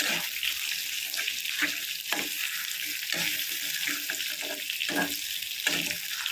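Ingredients for a quick bachelor-style tomato rasam sizzle steadily in a hot pan, with a constant bright crackle and soft scraping stirs at intervals.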